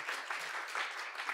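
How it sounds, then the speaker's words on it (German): Audience at a theatre bar evening applauds, a short, faint, steady patter of many hands clapping heard from a distance. "um noch einen weiteren Applaus hervorzukitzeln"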